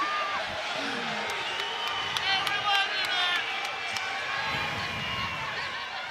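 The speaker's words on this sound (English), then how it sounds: "He's getting booed." A college wrestling crowd at a dual meet between Nebraska and Utah Valley booing a wrestler, a steady diffuse jeer from the stands with scattered whistles and shouts, heard under an announcer's commentary.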